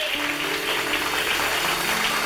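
Audience applause in a Tamil Sunday church service, a dense steady wash of many hands clapping that fills the whole stretch at an even, fairly loud level with no talk over it.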